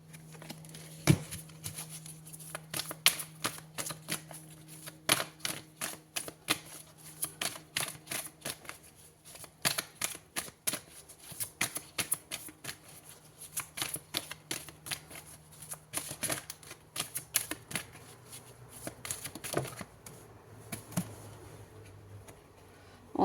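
Tarot cards shuffled and drawn, giving rapid crisp riffling clicks and snaps in irregular bursts, close and fairly quiet, with no talking.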